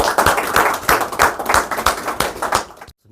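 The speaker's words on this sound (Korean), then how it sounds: "큰 박수로 환영해 주십시오." Applause from a lecture audience welcoming a speaker, heard as distinct claps in an uneven rhythm, fairly close, then stopping abruptly near the end.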